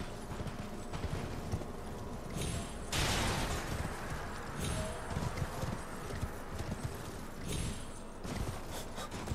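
Horse hooves galloping in the Elden Ring video game, a fast steady clip-clop rhythm under dense rumbling game noise, with a brief whooshing surge partway through.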